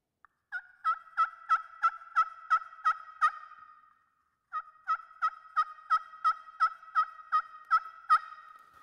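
A slate turkey call worked with a striker, producing two runs of quick, evenly spaced yelps, clear and close, separated by a short pause.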